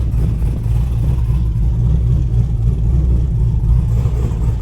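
A Chevrolet Camaro with an engine misfire runs steadily in reverse gear, giving a continuous low, rumbling drone that is loud and close, with no talk over it.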